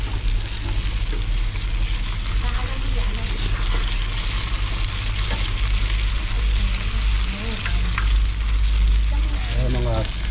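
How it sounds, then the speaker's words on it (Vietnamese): Vegetarian spring rolls frying in hot oil, a steady loud sizzle and crackle throughout with occasional stirring and low background hum. "Thì cái này là chiên cái chả giò mọi người."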